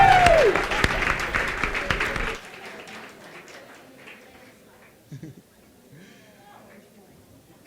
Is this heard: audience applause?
yes